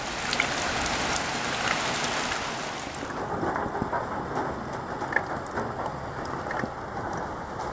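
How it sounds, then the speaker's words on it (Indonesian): Steady rain falls outdoors in a hilly hunting area, a constant hiss of drops on surfaces, moderately loud and unbroken throughout with no talking. "Woi, berhentilah lagi hujan."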